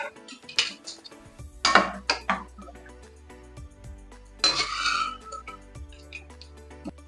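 Cooked stuffed eggplant and drumstick curry being moved to another plate, with ringing metal dishes and utensils clinking and scraping in irregular bursts, close and moderately loud, with quieter gaps between.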